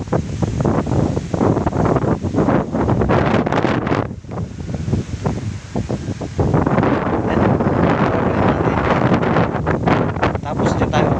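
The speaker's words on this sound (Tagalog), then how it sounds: "Lamig ng hangin, oh, lakas. Salubong pa ako sa hangin" Strong wind on a steep climb near a waterfall roaring and buffeting the microphone continuously, loud and close, with brief lulls between gusts.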